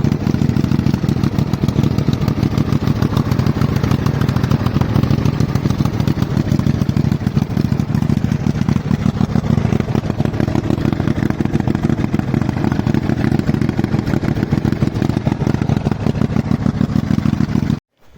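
Small motor engine running steadily, a loud, close, rough clattering drone with a fast even pulse that holds constant for the whole stretch before cutting off abruptly at the end.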